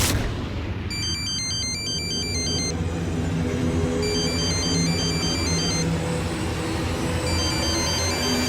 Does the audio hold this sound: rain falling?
no